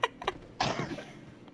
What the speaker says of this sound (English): Coughing sucks.